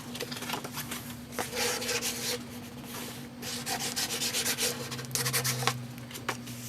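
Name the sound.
burnishing paper on a pop-up album page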